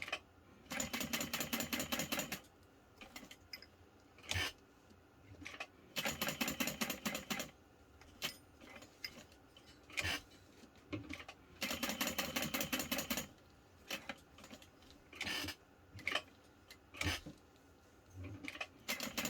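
Sewing machine stitching a Swoon Patterns Denver backpack, running in several loud rapid bursts of needle strokes separated by short pauses and small clicks.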